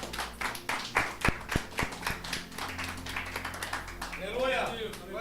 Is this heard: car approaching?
no